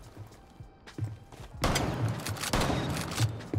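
Shotgun fire in Rainbow Six Siege: two heavy, booming blasts land about a second apart, each leaving a dense rumbling decay, preceded by quieter gameplay thumps and clicks.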